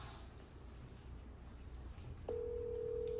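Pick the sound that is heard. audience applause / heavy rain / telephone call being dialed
telephone call being dialed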